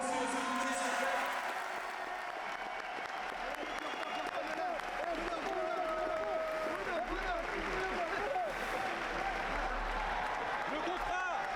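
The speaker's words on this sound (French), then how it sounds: "fais un tonnerre d'applaudissements pour ce DJ s'il vous plaît" A crowd at a professional fight event applauds a DJ with sustained clapping and cheering. Voices mix into the noise throughout.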